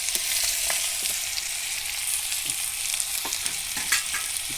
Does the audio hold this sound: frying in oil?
yes